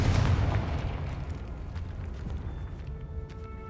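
A Confringo spell blast in the Hogwarts Legacy video game, a loud booming burst at the start with a deep rumble that trails off and fades over a few seconds, no voices.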